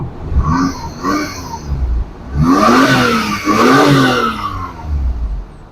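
A Suzuki DA64 kei van, a 4x4 automatic recon unit, revs its engine through the muffler: two short blips, then longer, louder rising-and-falling revs close by, with no talk over them.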